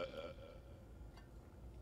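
A single low, faint burp, short and guttural, rising out of a steady background hum.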